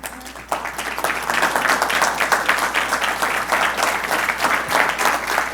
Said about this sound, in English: I know y'all gonna clap for y'all parents.